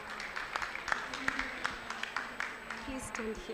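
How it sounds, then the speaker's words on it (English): Audience applause at a COP27 session on climate-resilient health systems in Africa, a steady patter of many hands clapping for several seconds with faint voices mixed in. "A big round of applause for Adenike"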